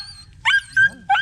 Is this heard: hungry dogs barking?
yes